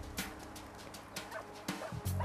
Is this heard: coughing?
no